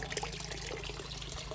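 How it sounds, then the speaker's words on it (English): Water trickles and splashes steadily through a homemade bucket filter waterfall on a goldfish pond, a continuous close burble over a low pump hum, with no voices. "Basically made a bit of a waterfall system."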